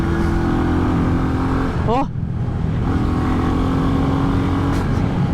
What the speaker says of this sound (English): Feel the mighty roar of that 349cc J Series Royal Enfield single cylinder engine.